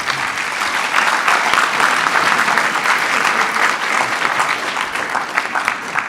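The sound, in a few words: audience applause at band concert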